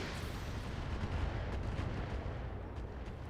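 Gunfire aimed at a sniper artillery enemy in a video game, a dense continuous barrage of booming, rumbling shots that fills the whole stretch loudly with no pauses.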